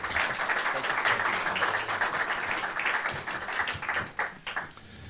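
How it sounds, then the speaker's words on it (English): Audience applause in a lecture hall welcoming a speaker, a dense, steady clapping that thins and tapers into scattered claps at the end. "please give a warm round of applause and welcome to Sir Richard Dalton"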